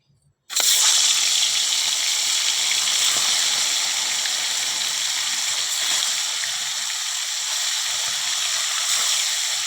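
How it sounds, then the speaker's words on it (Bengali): Fish frying in hot oil in a wok for a Bengali fesha fish curry, a loud, steady sizzle that starts abruptly and holds unbroken, with no voices. "তো চলো আগে মাছটা ভেজে নিই।"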